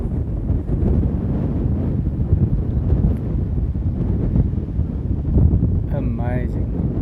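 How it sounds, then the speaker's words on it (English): Strong wind buffets the microphone at a paragliding launch spot in a continuous low roar with gusty surges, and a brief voice speaks near the end. "Quite windy."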